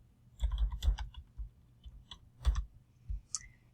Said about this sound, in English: So up here in my search bar, I can just type in VLOOKUP,